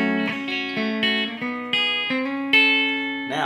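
Sixths double stops on a distorted electric guitar shift up a minor third, a short phrase of about six plucked two-note pairs with sustained ringing tones, ending in a brief scratchy strum.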